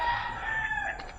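A rooster among chickens in a backyard coop gives a brief, faint crow heard from some distance, lasting just over a second.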